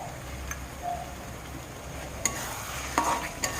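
Spices with Kashmiri chilli powder being sautéed in a pan for jackfruit kurma biryani, a low sizzle under a few light clicks and scrapes of a stirring spoon, close and quiet.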